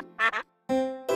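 A cartoon duck from the Spanish-language Pocoyo series quacks in three short, bright, nasal bursts, two close together and then a longer honk, separated by brief silence.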